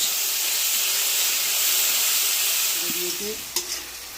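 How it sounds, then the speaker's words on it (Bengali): Onion and tomato paste frying in hot oil with cinnamon, cloves and cardamom for a home-cooked chicken biryani, a steady loud sizzle and hiss throughout, with a couple of brief utensil clinks near the end. "তার জন্য একটু দারচিনি লবঙ্গ এলাচ ফোড়ন দিয়ে দেওয়া হলো এবারে যাচ্ছে তার সঙ্গে পেঁয়াজ আর টমেটো পেস্ট"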